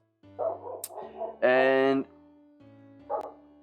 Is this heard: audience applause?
no